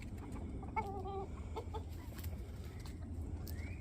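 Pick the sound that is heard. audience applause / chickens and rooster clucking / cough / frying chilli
chickens and rooster clucking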